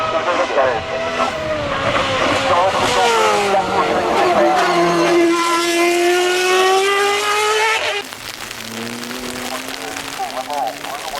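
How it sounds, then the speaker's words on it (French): Several race cars at a hill climb on Mont Dore, a Ferrari among them, roar past one after another with rising and falling engine notes, loud and close, under a commentator's voice. "Avec quelques minutes de passage de quelques belles voitures, notamment la Ferrari"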